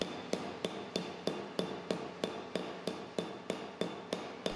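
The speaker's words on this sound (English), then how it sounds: "the surface of the mold is tapped with a smoothing hammer." A flat smoothing hammer taps sheet metal over a 3D printed pattern mold in an even rhythm, about a dozen crisp, close strikes at regular intervals with no talk.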